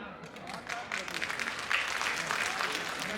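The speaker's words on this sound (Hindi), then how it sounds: "15-20 लोगों ने ताली बजाई" Modest applause from a small group of about fifteen to twenty people at a religious festival gathering, fairly soft and scattered, with some voices mixed in.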